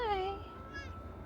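A single short, high meow rings out at the start, with a fainter second mew shortly after against a quiet background.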